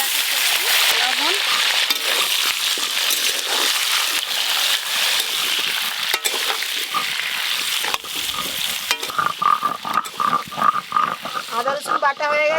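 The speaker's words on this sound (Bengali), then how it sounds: "শুক্তোর জন্য এখানে রাঙালু, কাঁচকলা, সজনে ডাঁটা আর গোলালু নিয়েছি, সব একসঙ্গেই ভেজে নেব" Mixed vegetables for shukto, sweet potato, green banana, drumstick stalks and potato, frying together in oil, a steady bright sizzle with stirring scrapes throughout and clinks of a spoon toward the end.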